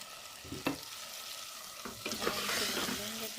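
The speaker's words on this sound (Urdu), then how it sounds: "اور ہم اسے بھون لیں گے تقریباً 5 منٹ تک، مسالے کو بھونیں گے۔" Tomatoes and green chili fry with spices in a hot pan, making a steady sizzle under several distinct stirring scrapes and utensil knocks. The sound is close and moderately loud.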